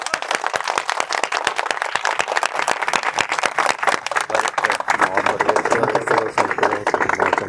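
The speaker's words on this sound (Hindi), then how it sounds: "जोरदार तालियां" Audience applause greets a technical achiever invited to the stage, a dense stretch of rapid claps filling the clip and thinning slightly toward the end, with some voices mixed in.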